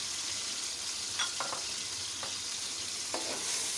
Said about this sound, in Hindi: ऑयल हमारा अच्छे से गर्म हो चुका है, तो अब इसमें हम प्याज डाल रहे हैं।